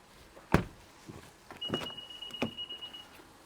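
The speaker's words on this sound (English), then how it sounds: "auto windows all around." A 2020 Acura TLX's electric window whirs as it moves, a steady motor hum with a few thumps and clicks around it.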